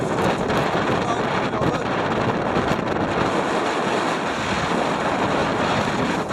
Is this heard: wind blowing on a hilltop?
yes